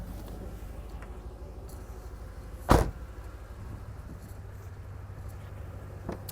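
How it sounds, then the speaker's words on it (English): A single sharp clunk as the hood of a 2010 Ford Mustang GT is popped open, standing out briefly against a quiet low background hum. "So let's pop that hood,"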